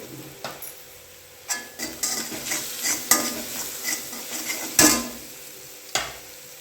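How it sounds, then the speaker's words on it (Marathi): Chopped green chillies sauté in hot oil in a pan for a quick cabbage and chana dal dish, a steady sizzle broken by sharp stirring scrapes and clinks of a spatula, close and fairly loud. "मिरची तेलामध्ये छान अशी परतून घ्यायची आहे"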